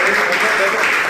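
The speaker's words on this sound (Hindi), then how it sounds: "जोरदार ताली" An audience at a public gathering in Nawalgarh bursts into brief, steady applause, a dense wash of clapping that fills the moment.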